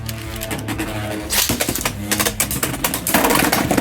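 Beyblade X spinning tops launch into a stadium and battle, giving rapid clattering clicks and metallic knocks with whirring scrapes, and the bursts of impacts grow denser toward the end.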